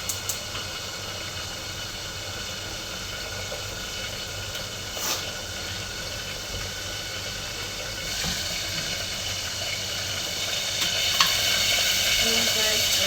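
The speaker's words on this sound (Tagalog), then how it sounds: "mainit na ang mantika." Hot cooking oil sizzles steadily in a pan while frying fish for lunch, a continuous broadband hiss that swells slightly louder toward the end, with faint scattered pops.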